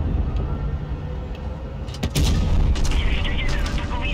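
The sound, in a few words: tank cannon shot in video game World of Tanks Blitz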